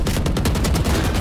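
Rapid automatic gunfire from a Valorant or Fortnite match rattles loud and close, evenly spaced shots running through the whole moment.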